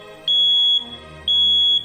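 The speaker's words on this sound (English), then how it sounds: "Your smoke alarm is made to break the harmony when you hear." A household smoke alarm sounds two loud, piercing half-second beeps about a second apart, close and alone.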